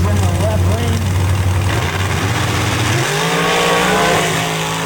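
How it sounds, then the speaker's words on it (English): A 632 cubic inch big block Chevy dragster engine at a dirt drag race, loud and rough, with an engine note that drops sharply partway through and then turns into uneven popping and crackling. An announcer speaks over it. "A lot of popping and cracking on the far side."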